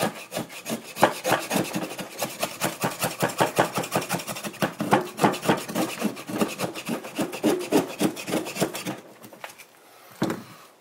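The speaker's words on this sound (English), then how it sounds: "so this knife right here, as you can see, is perfect for making feather sticks or whatever you need to do" A cheap bushcraft knife shaves feather sticks from a piece of wood in fast, rhythmic scraping strokes, close and steady for several seconds before a pause and one last stroke.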